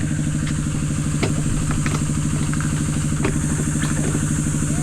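A motorcycle engine, its mount tied down with rubber, runs at a steady idle with a continuous low throb and scattered light clatter and ticks, close and alone without talk.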